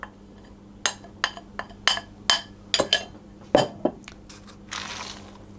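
Raisins stirred into bread batter in a bowl, a series of distinct close clinks and knocks of a utensil against the bowl at an irregular rhythm, with softer wet scraping between them.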